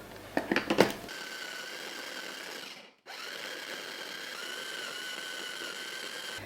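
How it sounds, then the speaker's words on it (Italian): After a few clicks, a food processor whirs steadily as it finishes chopping glaze ingredients of egg white and cornstarch, briefly stops, then runs again with a constant motor drone at close range. "Finisco di tritare il tutto."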